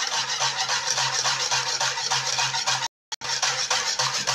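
Oil being stirred into melted shea butter in a bowl, a steady scraping, rubbing stir that runs continuously, briefly cut off for a moment near the end before resuming.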